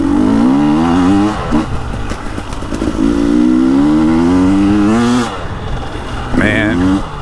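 A KTM 300XCW two-stroke dirt bike engine revs up in rising, buzzy sweeps, easing off between bursts and climbing again, loud and close, with a rider's voice at times.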